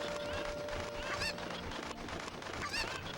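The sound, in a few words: chickens clucking in Zelda Ocarina of Time video game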